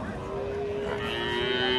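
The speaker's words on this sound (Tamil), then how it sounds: "ஒரு ஜல்லிக்கட்டு மாடு நிக்குது." A Jallikattu bull at a large cattle market in Tiruppur gives a loud, sustained low moo close by, with market noise underneath.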